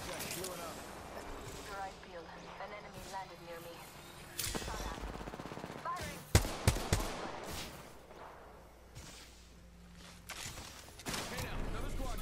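Gunfire in a ranked Apex Legends match, with sharp shots and bursts clustered around the middle and scattered through the rest. They sit among constant game noise and a voice talking over the top.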